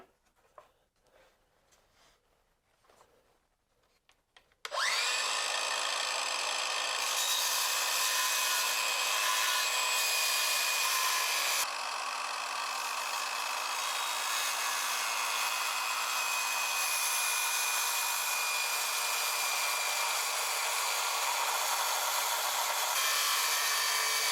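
Circular saw spinning up and ripping through wood on a compound miter bevel cut, a sudden loud steady high whine with a slight drop in pitch partway, after a few seconds of quiet handling noises.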